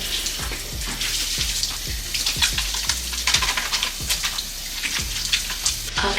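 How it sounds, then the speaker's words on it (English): Tap water runs steadily into a bathroom sink as hands are washed, a close, continuous splashing hiss with slight rhythmic changes as the hands move under the stream. "before touching your face, wash your hands"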